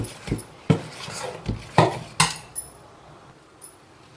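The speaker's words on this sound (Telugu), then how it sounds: "ఇలా ఫెర్మెంట్ అయిన దాన్ని మనం ఇలా మొత్తం కలిపేసుకోవాలి" A fermented dosa batter is stirred in a bowl, each pass ending in a sharp clink of a spoon or ladle against the rim. Several separate knocks come close and fairly loud, with quiet gaps between them and no voices.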